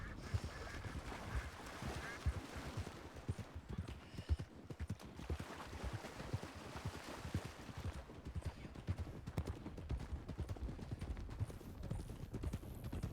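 Hooves clip-clop steadily as horses wade across a shallow creek bend in the Western game WildRP, with soft splashing. The sound is faint and continuous, with a few muffled voices in the background.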